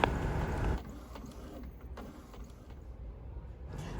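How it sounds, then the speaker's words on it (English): An Epson 2760 inkjet printer converted for sublimation runs a print job, with a mechanical whir and soft clicking carriage movements, starting with a louder feed rumble and then settling into steady, moderate mechanical sounds. "I'm using my Epson 2760 printer that I converted over to sublimation, and I'm just letting it print out"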